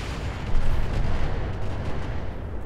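Heavy weapons fire in the mech combat game Roguetech, a dense continuous roar of booming blasts and rumbling explosions, loud and sustained with no talk.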